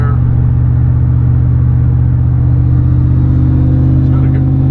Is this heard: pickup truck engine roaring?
yes